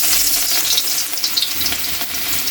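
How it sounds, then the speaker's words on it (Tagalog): Onions sizzle and crackle in hot cooking oil for pork adobo, a loud, continuous close-up frying hiss with small popping bursts throughout, and no voices. "Lagay na natin yung sibuyas."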